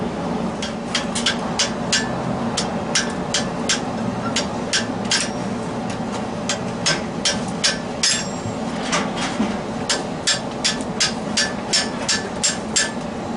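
A hammer strikes a thin metal water-leaf piece for a grille in a steady, fairly quick rhythm, crimping its edge, sharp ringing taps repeating for over ten seconds against a low background hum.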